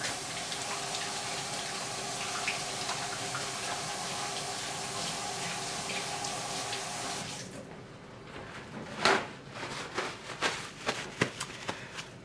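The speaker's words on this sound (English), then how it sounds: "I need to wash my hand real quick." Running tap water pours steadily over hands at a kitchen sink for about seven seconds, then cuts off, leaving a few close clatters and knocks.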